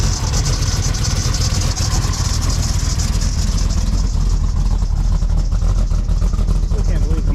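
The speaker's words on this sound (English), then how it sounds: "Still can't believe how much quieter those mufflers are. Just gonna let it run for a bit" A reassembled engine fitted with new quieter mufflers idles steadily and loudly up close, a constant low rumble with no pauses for the whole stretch.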